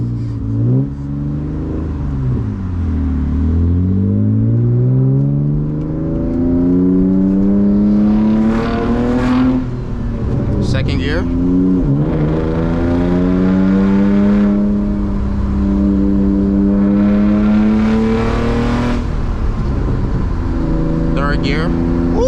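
A manual BMW E36 328i with a loud exhaust revs hard in first gear. Its engine note climbs, drops and climbs again in repeated close sweeps that stay loud and continuous throughout.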